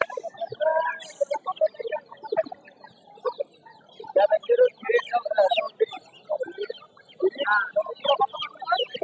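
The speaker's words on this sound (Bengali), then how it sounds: "এখন দেখতেছেন পাকিস্তানি মুরগিটা" Chickens, Pakistani black-and-white hens among ducks, cluck continuously at a busy poultry market in Putia bazaar, with close, overlapping calls and some crowd voices mixed in.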